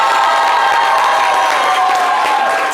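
A live studio audience cheers and shouts at a French daytime game show, a loud, dense, continuous roar of many voices with no pauses.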